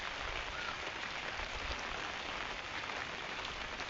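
Steady rain falls outdoors as a constant, even hiss of drops on surfaces, close and moderately loud with no voices.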